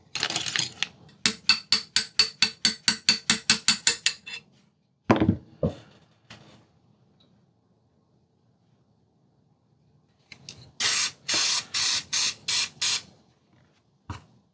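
Rapid bursts of sharp metallic tapping as a brass rod hammers out a stuck rifle gas block, repeated blows in quick series, pausing in between, then another fast run of strikes.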